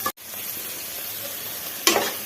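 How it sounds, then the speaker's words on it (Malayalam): Mustard seeds, fenugreek, ginger, garlic and shallots frying and being stirred in coconut oil for a fish curry, a close, steady sizzle with a brief stirring scrape near the start and a louder burst toward the end. "വെളിച്ചെണ്ണ ഒഴിച്ച് കടുകിട്ട് ഉലുവ ചേർത്ത് ഇഞ്ചി, വെളുത്തുള്ളി, ചുവന്നുള്ളി ഇത്ര സാധനം ഇട്ട് നന്നായിട്ടൊന്ന് വഴണ്ട് വരട്ടെ കേട്ടോ."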